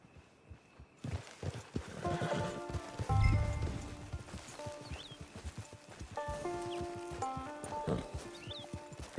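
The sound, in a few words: horse hooves from a video game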